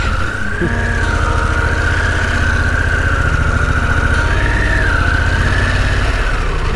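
Harley-Davidson Pan America motorcycle engine running steadily and loud, with a continuous low rumble close by and a wavering whine above it while riding.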